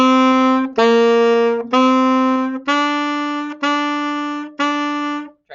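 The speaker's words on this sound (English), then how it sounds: "Now let's play the first 2 measures." Alto saxophone plays the first two measures of a beginner exercise: six sustained, tongued notes in a steady rhythm, each cleanly separated by a short tongue break, close and loud with no talking.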